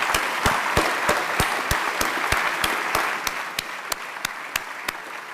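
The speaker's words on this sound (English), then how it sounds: "give one more round of applause for those winners who I think did a fantastic job today" Audience applause for award winners at a live Foundation Day ceremony, a steady wash of many hands clapping throughout, with sharp bright claps punctuating at a fairly regular pace and the ovation easing slightly toward the end.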